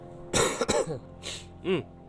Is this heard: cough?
yes